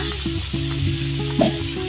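Shrimp sizzle loudly in a pan with turmeric, cumin, coriander and ginger-garlic paste, a thick continuous crackle with a low hum beneath and a few stirring knocks, close and strong.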